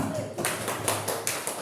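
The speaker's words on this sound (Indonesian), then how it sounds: "Tepuk tangannya." Classroom applause in a student teaching session, a scattered burst of claps from the class with faint chatter mixed in.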